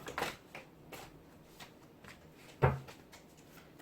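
Tarot cards are shuffled in soft, irregular riffles and slides, faint and close, with one sharper tap partway through and no talk.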